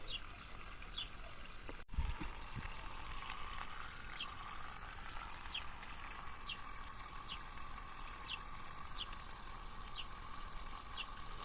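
Water trickles and gurgles as it drains away through watered potted plants, a steady nearby flow with faint intermittent squeaks and one sharp knock early on.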